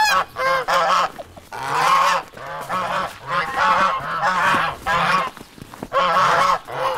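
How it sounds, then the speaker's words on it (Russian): Domestic geese on a rural household farm honk loudly and repeatedly in overlapping bursts, several birds calling close by with short pauses between volleys. "Пятеро гусей?"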